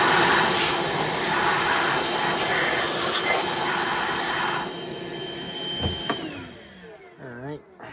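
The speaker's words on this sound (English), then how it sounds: "we're going to vacuum this out in here" A vacuum cleaner whooshes loudly and steadily up close while cleaning out a Shark vacuum cleaner during servicing. It then cuts off and winds down with a falling whine, followed by faint handling noises.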